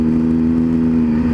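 A Triumph Street Triple R motorcycle's exhaust rattles off the buildings in Chipping Campden, a loud, steady, close engine drone with rough harmonic buzz.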